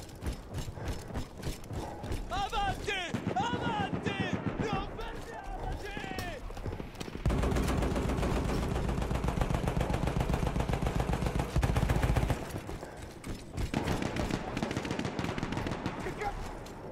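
Gunfire from the World War I shooter Battlefield 1 rattles in rapid machine-gun bursts and sustained volleys, loud and dense, with intervals of chatter and mechanical clatter and a person talking over parts of it.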